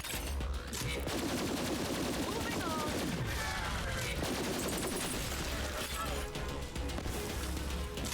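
Rapid pistol fire from a Borderlands 3 shooter battle, loud and continuous with dense bursts of shots, crashes and impacts over a busy game soundscape, with talk mixed in.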